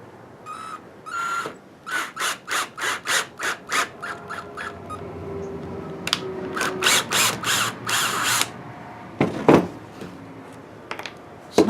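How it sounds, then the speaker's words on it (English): A power drill bores a couple of holes into a piece of wood, running in a series of short, regular bursts, then a longer continuous run with grinding and scraping, ending in a few sharp knocks. "I'll have to drill a couple holes."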